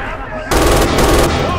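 Sustained MG42 fire in Red Orchestra 2 during a tractor factory assault. Quieter game ambience comes first, then a loud, rapid automatic burst rattles on without pause, close and dominant.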